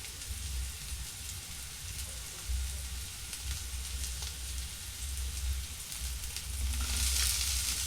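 Tomatoes for tomato rice sauté over a low flame, giving a continuous gentle sizzle with occasional stirring, slightly brighter and louder near the end; no one speaks.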